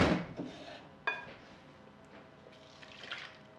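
Chocolate mousse mixture being poured back into a pan, with a clattering knock of the pan at the start, another metallic clink a second later, and soft liquid sloshing that trails off.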